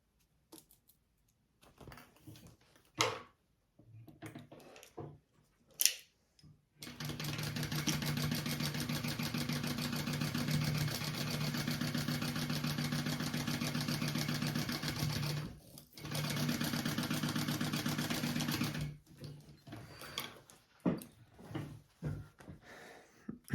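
A sewing machine stitches the seam of a Blossom crossbody bag, running steadily for about twelve seconds with one brief pause, surrounded by shorter stops, starts and handling clicks.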